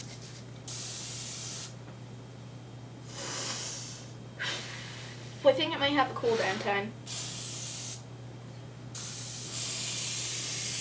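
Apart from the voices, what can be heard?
spray can spraying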